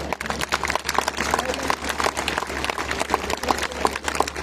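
A crowd at a Hindu gathering in Peddapuram claps loudly, continuous dense applause with sharp individual claps standing out, sustained and even for several seconds.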